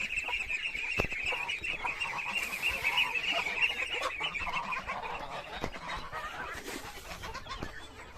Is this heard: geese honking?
yes